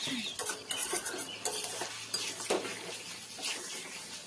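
Chicken with potatoes and slit green chillies fried in a pot for biryani, a spoon scraping and knocking against the metal in irregular strokes over a soft sizzle, fairly quiet and close.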